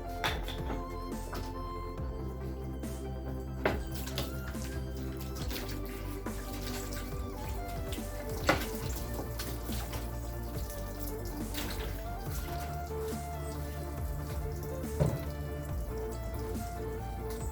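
Water from a hose or tap rinsing a freshly polished car, a steady close splashing and running flow with scattered drips and brief louder splatters, no voices.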